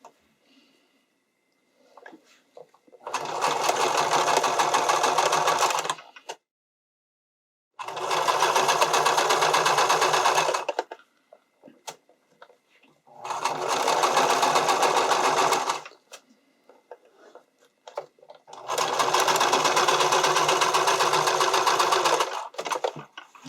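A sewing machine stitches the channeling of a strappy underwire bikini top in four steady bursts of several seconds each, with short quiet pauses between them, close and fairly loud with no talk.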